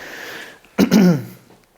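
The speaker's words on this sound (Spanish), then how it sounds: "Si es carraspeo, es carraspeo." A single throat clearing, close and fairly loud, rough and gravelly for about half a second after a quieter stretch.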